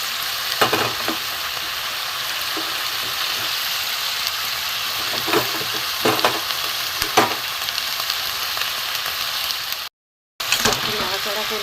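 Prawns and pumpkin curry sizzling loudly in a pan while being stirred, steady frying hiss broken by repeated scraping stirs and a brief gap near the end.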